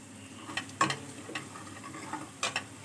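Sliced onions with Kashmiri red chili fry in a pan, a soft steady sizzle broken by a few sharp clicks and stirring scrapes, close and fairly quiet.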